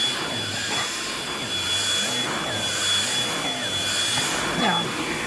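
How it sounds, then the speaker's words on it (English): Bissell Pet Hair Eraser cordless lithium-ion hand vacuum running steadily up close, its motor whine holding a constant pitch with brush scraping on fabric and a voice speaking briefly. "I would say this is a very good little vacuum."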